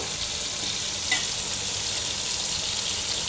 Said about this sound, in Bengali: লবণ হলুদ দিয়ে চিংড়িটা একটু ভেজে নিচ্ছি